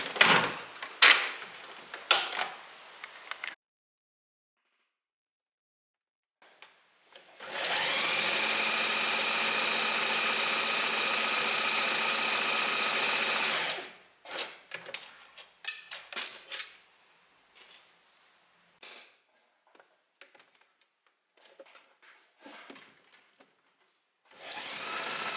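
A sewing machine stitching a blouse runs in one steady, loud, motorised burst of about six seconds, set between stretches of fabric handling, clicks and brief shorter whirs.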